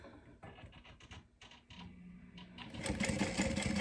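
Sewing machine running steadily while top stitching a small fabric key pouch, a close, continuous mechanical whir that builds in speed and loudness toward the end.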